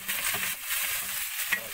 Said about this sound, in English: Here goes the meat. Hey, you can hear that high flame, and it's really frying it up in there.